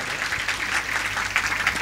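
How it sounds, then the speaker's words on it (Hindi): An audience at a devotional stage event claps loudly to honour an arriving guru, a brief, dense burst of applause from many hands. "एक बार जोर से ताली सेवा के साथ महाराज जी का सम्मान हो।"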